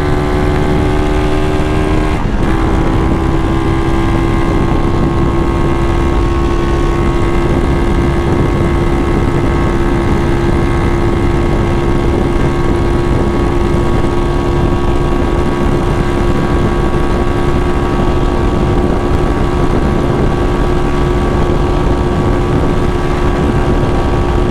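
A Titan 250cc motorcycle with a retuned carburetor cruises on a highway, its engine holding a steady loud drone with strong wind rush for the whole stretch, one brief shift near the start.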